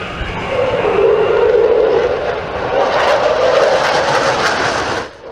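A loud, sustained roar from a Eurofighter Typhoon's two EJ-200 jet engines at a beach airshow, swelling and holding steady, then dropping away abruptly at the end.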